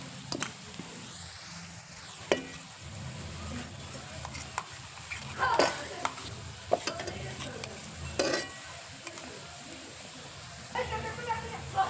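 Green chili goes into a pan and is stirred while making Puneri vangyache bharit, with soft sizzling under repeated scraping stirs and a few sharp clatters, and a voice faintly talking in the background.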